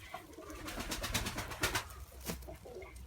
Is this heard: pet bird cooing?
yes